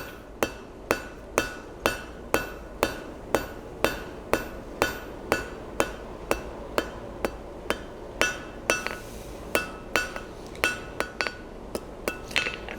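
A hammer strikes hot steel on an anvil in a steady rhythm, about two blows per second, each a sharp ringing clang, close and loud with no talking.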